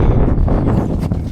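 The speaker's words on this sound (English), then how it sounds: "Man, windy up here." Wind gusts buffeting the microphone on a snowy winter mountain summit, Crane Mountain in the Adirondacks, a loud roaring rumble with uneven surges over a short stretch.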